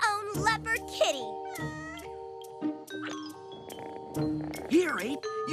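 A cartoon leopard kitty gives several meows and cat cries in a George of the Jungle episode, mixed with bright animated chimes and character voices talking.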